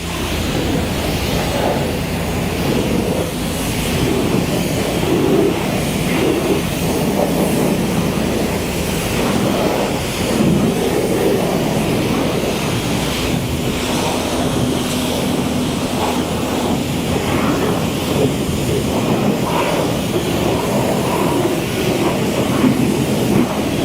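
An air blower dries water off a motorcycle, a steady loud rushing roar that holds constant for over twenty seconds with only slight wavering.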